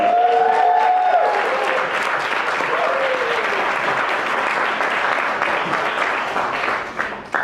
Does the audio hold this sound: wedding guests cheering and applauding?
yes